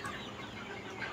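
Native Sonali chickens cluck together on a poultry farm, a busy, close flock chattering continuously through a short stretch.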